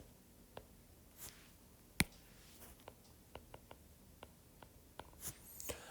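A pen sketches a six-sided shape on paper, quiet scratchy strokes and light taps arriving in short separate bursts against a near-silent background.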